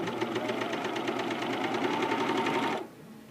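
A Juki MO-2000QVP serger runs steadily at speed while gathering fabric, a close, even mechanical whir with rapid rhythmic ticking that stops abruptly near the end.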